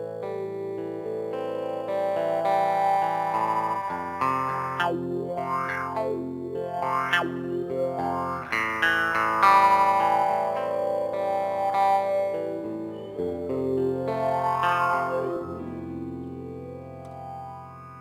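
Sustained synth or guitar chords swept by an envelope-automated wah filter in REAPER: quick high-low sweeps, then a high peak easing down, and a fluttering section, with the filtered overtones rising and falling continuously at a steady, loud level.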